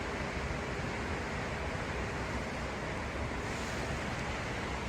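Water rushes continuously in a steady, broad hiss, loud and unchanging throughout, like a river flowing nearby.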